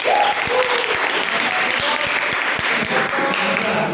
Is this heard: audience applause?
yes